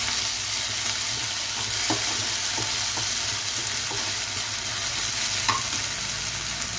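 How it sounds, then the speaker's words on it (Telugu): Onion, green chilli and ginger paste frying in a pan for fenugreek fried rice, with a soft, steady sizzle and several spaced spatula strokes as the mixture is stirred, no voices. "ఒకసారి బాగా కలపాలి."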